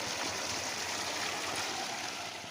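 Water pours steadily from five stone spouts at a traditional Nepali stone waterspout site, a constant splashing rush heard up close with no voices.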